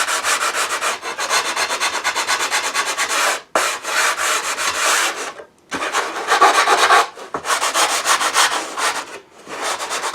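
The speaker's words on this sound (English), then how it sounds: "Piece of 180 sandpaper on a block of wood." Sanding wood by hand with 180-grit sandpaper wrapped on a wood block: loud, close, rhythmic back-and-forth scratchy strokes in several bursts separated by short pauses.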